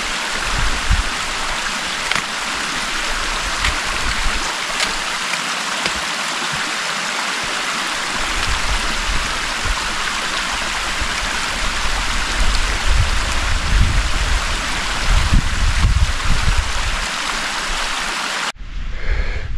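A steady rushing of a stream flowing in a cave in the Dolomites, in rain, fills the whole stretch, even and continuous, with occasional low thumps and drips underneath.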